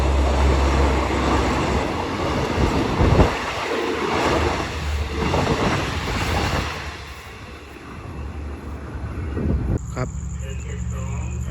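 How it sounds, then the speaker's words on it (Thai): A train rumbles steadily past at close range through Maruan station in Thailand, a continuous heavy roar with rail clatter, easing slightly midway before a tonal hum joins near the end. "ผ่านสถานีรถไฟมารวนนะครับ"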